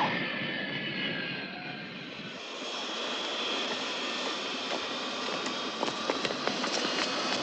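An airplane landing on runway 28 right produces a continuous loud roar of jet engines that holds steady and rises slightly toward the end, alone with no talk.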